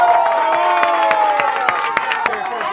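At a sancocho festival in Patanemo, a crowd applauds and cheers loudly and steadily, with sharp claps and whoops rising out of the mass of noise and voices mixed in.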